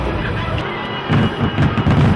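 Fireworks booming over Gwangan Bridge at the Busan Fireworks Festival, a run of loud, rumbling blasts and crackles close together against steady crowd and outdoor noise.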